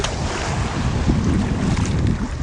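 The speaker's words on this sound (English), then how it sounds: "here comes the wave, and that makes it hard to see when the wave stirs up the water a little bit" Ocean waves wash in at Fort De Soto beach in Florida as a continuous loud rush of surf, mixed with heavy wind buffeting the microphone and no talking.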